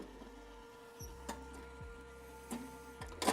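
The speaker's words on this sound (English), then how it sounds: "So that clunking noise is probably the back of the drum not" Loose clunking from the back of a Skywalker V1 coffee roaster drum that is poorly attached, a few dull knocks spaced about a second apart over a steady low mechanical hum.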